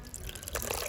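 Water pouring into a cooking pot for bottle gourd rasam, a short splashing gurgle that grows fuller partway through.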